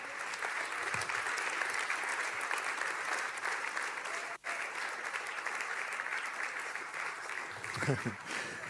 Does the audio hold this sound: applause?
yes